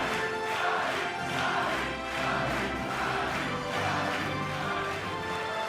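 Crowd applause and cheering fill a wrestling arena after the Kairi Sane vs. Tessa Blanchard women's match at the 2017 Mae Young Classic, a steady, dense roar with no talk over it.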